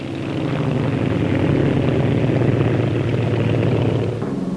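A 1950s Bristol 173 twin-rotor helicopter with small stub wings flies past at a Farnborough air display, its engine and rotor drone swelling loud and steady, then fading slightly near the end, with no voices.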